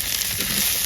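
Chopped vegetables with green chillies and onion frying in oil in a wok, a steady close hiss of sizzling throughout with soft crackle and no voices.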